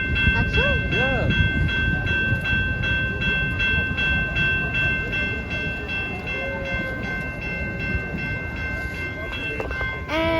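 A decorated holiday train rolls past close by in a city, with a loud steady rumble of wheels on rail and long sustained horn or whistle tones, while people talk nearby.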